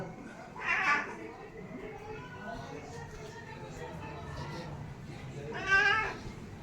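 A cat meows twice, a few seconds apart, over quiet room noise with some faint low murmuring in between.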